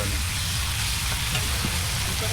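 Onions and spices frying in a pan at an outdoor picnic, a loud dense continuous sizzle filling the whole moment, close and steady, with no clear speech.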